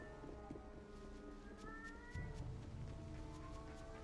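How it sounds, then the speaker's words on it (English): A house cat meows a few times in the background, faint rising calls over steady ambient noise in a room where a video game is being played. "Oh god, I have a noisy cat."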